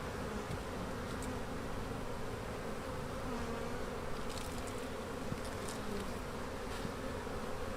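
Honey bees swarm and buzz in a steady, dense drone at an open winter-damaged beehive during a frame inspection, the hum continuous and close throughout with no voices.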